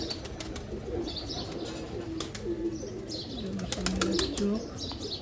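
A pigeon raising chicks coos in soft, low, repeated calls under a constant hum, with occasional faint chirps and light rustling.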